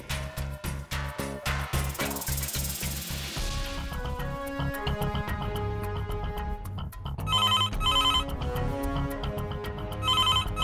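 A telephone ringtone plays in a home setting, a loud electronic melody of repeated bright tones that shifts pattern partway through and returns in bursts, with no talking over it.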